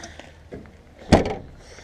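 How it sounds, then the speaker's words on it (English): A beat-up, trashed pickup truck door swings shut with a single loud, close thunk and a short rattling decay, after softer handling clicks. "The door still shuts, though."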